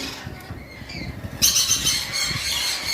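Pet birds in a breeder's aviary give high squawks and chatter, faint at first and then a louder, continuous chorus from about midway on.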